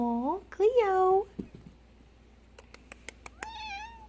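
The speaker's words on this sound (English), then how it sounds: "Can you meow for us, Cleo?" A pet cat meows in several drawn-out, rising and falling calls, close and fairly loud, with a short pause in the middle, in a quiet home setting.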